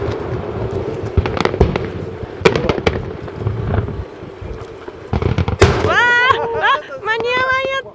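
Fireworks at the Umi no Nakamichi art fireworks show burst in loud booming explosions with crackling, followed by a cluster of rising whistling shells, while spectators chatter and exclaim throughout.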